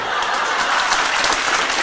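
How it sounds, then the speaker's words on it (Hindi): An audience in a motivational class bursts into dense, continuous applause, many hands clapping together at close range and fairly loud, without any break across the moment. "जिन्होंने तालियां बजाई है मैंने 5-7 को देख लिया है"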